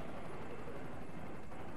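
Helicopter in the video game Resident Evil 4, a steady dense rotor and engine rumble holding at even loudness throughout with no talk over it.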